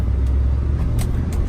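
A low-mileage 2004 Chevrolet SSR truck's engine runs with a steady, close, low rumble over a brief moment, with no talking.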